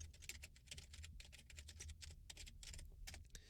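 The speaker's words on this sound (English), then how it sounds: "If I type in my name" Fingers typing a name and email on a computer keyboard while filling in a spreadsheet form, a quick, uneven run of soft key clicks, quiet and close, with no one speaking.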